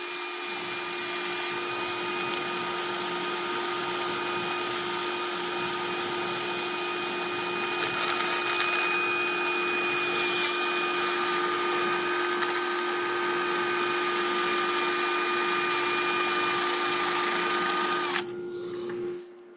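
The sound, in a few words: dust extractor running in woodturning shop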